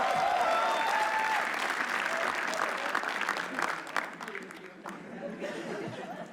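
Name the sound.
audience applause in an auditorium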